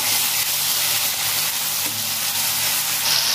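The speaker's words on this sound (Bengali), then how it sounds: "দিয়ে টমেটোটা আদাটা ভালো করে ভেজে নেবো।" Ginger paste and chopped tomato frying with panch phoron in a pan for Bengali dudh sukhta, a loud, close, continuous sizzle with faint stirring and no speech.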